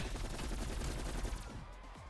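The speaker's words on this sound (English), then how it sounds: "The energy cannon right there took me for surprise." Rapid bursts of energy cannon fire in the video game Call of Duty: Cold War, loud and continuous for about a second and a half, then fading into a rumbling tail.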